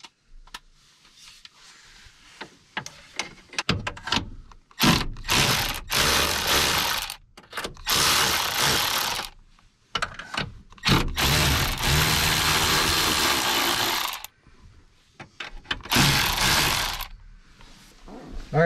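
A ratchet wrench loosens a nut on a long stud holding a pickup's steering column, with close, loud rapid clicking in long sustained runs broken by short pauses.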